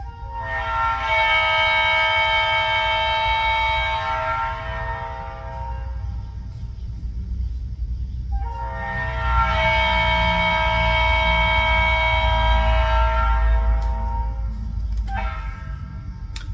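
A recorded train whistle plays two long, loud, steady harmonic blasts, each several seconds long, separated by a short pause, with a brief third toot near the end over a low rumbling background.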